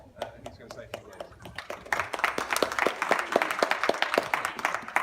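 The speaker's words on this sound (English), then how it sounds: "I really don't think I deserve a round of applause" Audience applause at the Central Croydon children's library, starting as scattered claps and swelling into steady, fairly close clapping from a crowd.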